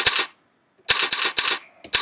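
Keyboard typing in a duckling-themed typing tutor game: short bursts of rapid key clicks, one brief flurry, a pause, then a longer run of clustered taps and a final quick burst, close and crisp.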